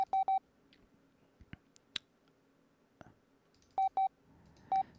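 Short electronic touch-tone beeps from a phone keypad with letters in a video game, a quick run of three at the start and a later pair and a single, with faint clicks between.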